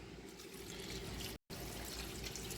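Tap water runs steadily into a kitchen sink while pinto beans are rinsed, a continuous close splashing stream with one brief cut to silence partway through.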